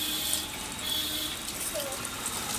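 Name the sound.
small Chinese 12V DC motor pumping water on solar power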